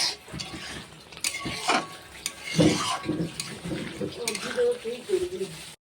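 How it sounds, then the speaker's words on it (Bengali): Shrimp, mung dal and bottle gourd are stirred in a pan, with scraping spoon strokes and soft clatter over a low sizzle, close by, before a sudden stop. "এবার এটা আমি নাড়িয়ে নিলাম"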